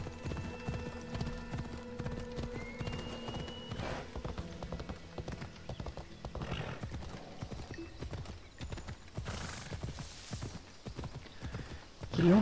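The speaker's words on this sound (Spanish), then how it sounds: "Pues voy a tener que ir en caballo." A horse in Assassin's Creed Odyssey gallops steadily, its hooves pounding in a fast, continuous clip-clop rhythm, with occasional snorts and a brief whinny over faint ambient background.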